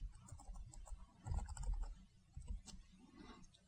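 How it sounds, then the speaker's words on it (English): Typing on a computer keyboard while entering a spreadsheet formula, a quiet, close patter of soft key clicks in short irregular bursts with a few brief pauses. "So now we type"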